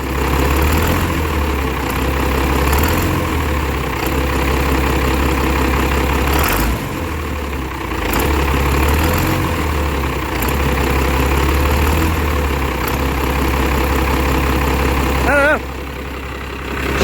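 A dually pickup truck's engine idles nearby with a loud, steady low rumble that continues throughout, briefly dropping in level near the end.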